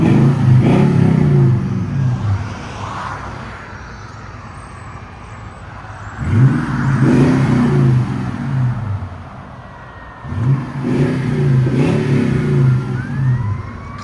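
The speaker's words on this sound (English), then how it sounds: "Classic Flowmaster sound." A 2020 Toyota Tundra 5.7L V8 with an X-pipe and Flowmaster Super 40 exhaust, revved hard three times, a deep loud rumble rising and falling with quieter idle stretches in between, heard up close.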